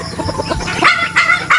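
Chickens cluck several times at morning feeding time on a farm with ducklings, short bursts in a busy close cluster with a faint crow-like call among them.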